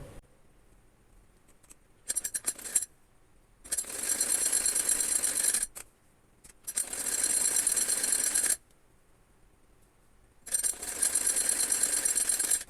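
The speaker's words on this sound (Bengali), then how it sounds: "এটা উল্টো করে রেখে আমি কাঁধটা সেলাই দিব" A sewing machine stitches the shoulder seam of a designer baby frock in three bursts of rapid, steady whirring, each a few seconds long, broken by quiet pauses and a brief stutter of short runs near the start.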